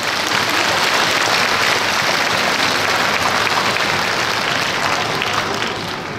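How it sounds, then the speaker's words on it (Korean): A church congregation at a Family Federation worship service in the Honam region applauds in thanks and encouragement, loud dense clapping sustained evenly for several seconds before easing slightly at the close. "감사와 격려의 박수 함께 올려주시기 바랍니다"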